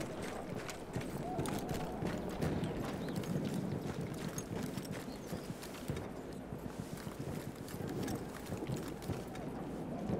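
Horse hooves clip-clopping in the Battlefield 1 Cape Helles campaign, a quick irregular patter heard under a steady wash of ambient battlefield and wind noise, moderately loud throughout.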